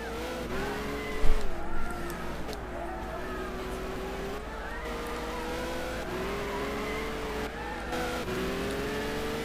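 Peugeot 908 race car in Gran Turismo 6 drones steadily at high revs, its engine pitch wavering slightly through shifts, with a brief thump early on and no talk.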